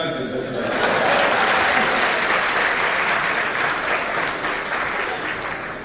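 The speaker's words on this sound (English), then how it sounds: "Republic of Ghana, you can clap it as well." A conference hall audience at an African medical councils' meeting breaks into sustained applause, a dense wash of clapping that rises quickly and holds steady, with a voice speaking faintly underneath.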